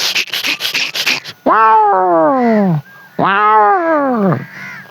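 A man imitates cats fighting in the distance, giving two long, wavering yowls that rise and sag in pitch, after a burst of rapid breathy noise at the start.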